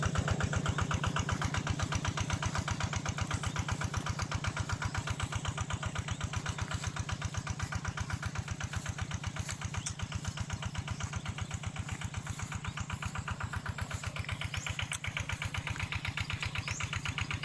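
A water pump's engine runs steadily nearby, a loud, even, rapid chugging thrum that holds constant throughout with no voices.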